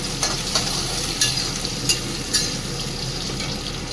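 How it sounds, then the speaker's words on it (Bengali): Onion and sun-dried lentil dumplings (bori) frying in oil with a dried chilli, a steady close sizzle broken by several sharp scrapes as the pan is stirred. "পেঁয়াজ দেওয়ার পর আমি এই বড়িগুলো দিয়ে দেবো এর মধ্যে, দিয়ে একসঙ্গে নাড়বো।"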